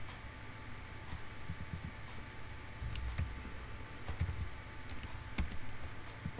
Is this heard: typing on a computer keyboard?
yes